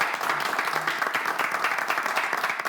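Applause from a television game show studio audience, dense continuous clapping at a steady loud level filling the whole stretch without talk.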